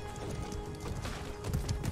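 Horse hooves clip-clop briefly in the medieval combat game Mordhau, a quick, steady trot that is close and fairly loud, with no talk over it.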